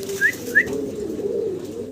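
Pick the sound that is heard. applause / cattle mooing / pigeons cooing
pigeons cooing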